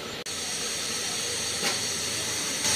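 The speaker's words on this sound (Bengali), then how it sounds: "প্রথমে ঢেলে নিচ্ছে কড়াইতে তেল।" Oil heats in a kadai with a strong, continuous close-up hiss that keeps going for the whole clip, broken only by a brief dip near the start and a few slightly louder surges; no voices.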